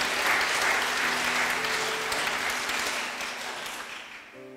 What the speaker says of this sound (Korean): 우리 다시 한번 감사의 박수를 올려드립니다.